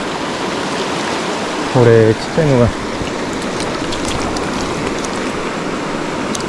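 Steady rain mixes with the rushing of a river on the opening day of ayu fishing season, a dense, loud wash of noise throughout, while someone speaks briefly over it.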